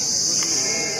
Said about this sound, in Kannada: ಇದು ದೊಡ್ಡ ಮೇಕೆ